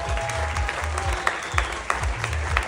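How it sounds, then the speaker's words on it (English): Guests at a wedding reception applaud steadily for a couple of seconds, a dense close patter of clapping with a few louder individual claps and low background hum. "There you go, give this man a big round of applause."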